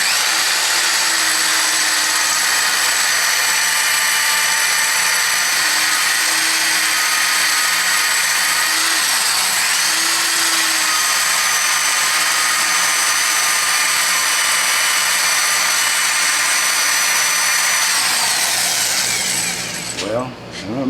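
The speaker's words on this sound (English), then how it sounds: "So I'm going to drill the little booger out" A power drill bores out a stuck screw on a Craftsman belt sander, a loud steady whine with a grinding edge that runs for about twenty seconds before abruptly stopping.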